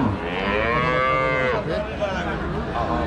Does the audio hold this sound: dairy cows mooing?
yes